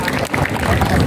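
Students in an Indonesian junior high school gathering clap together in a steady, dense burst of applause filling the room, with crowd noise mixed in.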